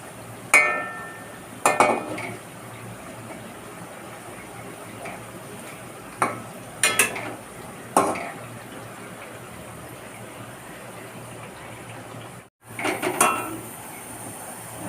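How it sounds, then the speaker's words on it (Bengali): Semolina biscuits are turned as they fry in a pan over low heat, with sharp utensil clinks and taps against the pan coming in scattered bursts over a faint background hiss. "উল্টিয়ে পাল্টিয়ে লাল লাল করে ভেজে নিতে হবে।"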